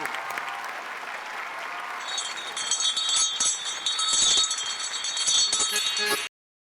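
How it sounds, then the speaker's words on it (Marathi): A television comedy show's audience gives loud applause for three actors from the stage play "B.P.", clapping that builds and carries a jingling bell-like shimmer before cutting off abruptly. "यांच्यासाठी जोरदार टाळ्या झाल्या पाहिजेत"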